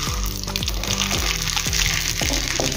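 Mustard seeds crackling and spattering in hot oil in a pan for cucumber chutney, a steady dense sizzle with repeated sharp pops throughout, close and loud.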